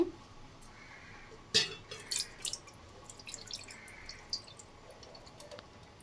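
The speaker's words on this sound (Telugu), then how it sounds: "ఇంత మాత్రం నీళ్ళు యాడ్ చేసుకుంటే సరిపోతుంది" Water goes into a rice cooker pot for making junnu, heard as faint, sparse drips and small splashes with one sharper splash early on, against a quiet background and no talking.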